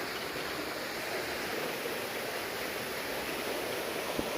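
Steady broadband rush of water pouring down a spillway at a fishing spot, a continuous roar close by with no voices.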